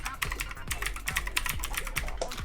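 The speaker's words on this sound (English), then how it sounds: "I'm typing that in myself to make sure." Rapid keyboard clatter as someone types a web address on a computer keyboard, steady irregular keystrokes close by, with a low background hum underneath.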